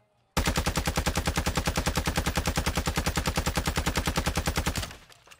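Hemlock rifle fire in the Modern Warfare 2 video game: a long, steady automatic burst of evenly spaced, loud, close shots lasting about four and a half seconds, then a short fading tail.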